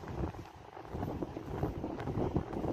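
Steady gusty wind buffets the microphone, a rough, low rumbling roar with no voices.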